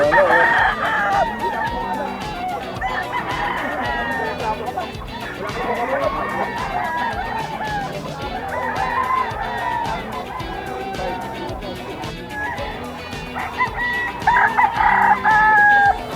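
Roosters, including a White Kelso, crow and chickens cluck repeatedly close by at a pet market in Bocaue, Philippines, with people talking over and between the calls.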